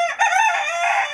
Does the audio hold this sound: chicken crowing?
yes